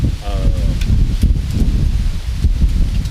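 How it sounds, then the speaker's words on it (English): Southern wind gusting outdoors at a rifle range, a steady broadband rumble buffeting the microphone throughout, with brief rustles and a faint background voice. "Listen to this wind die down just for a second."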